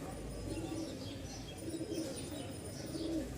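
Pigeons coo softly in a loft of breeding pairs, with low repeated calls under a background hum.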